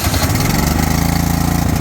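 A Craftsman two-stage snowblower engine catches and runs at a steady, loud idle close by, with a continuous even chug and no voices over it.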